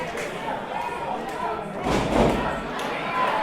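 A wrestler's shoulder tackle lands with a dull thud on the ring canvas at an independent wrestling match, a single muffled impact midway under steady commentary and light crowd murmur.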